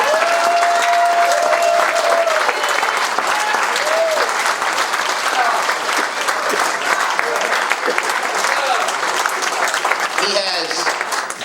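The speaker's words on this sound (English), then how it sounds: "Could we give him a round of applause because of the work that he does?" Loud, continuous applause from a large audience at a Martin Luther King Day event fills the whole stretch, with a few voices calling out over the clapping.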